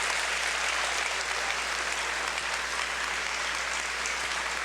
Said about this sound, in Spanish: Dele un aplauso al Señor esta noche.